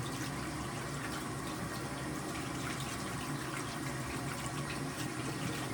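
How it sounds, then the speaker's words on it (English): Hands are washed under a running tap, a steady, close rush of water splashing into a sink with no break and no voices. "we're going to wash our hands."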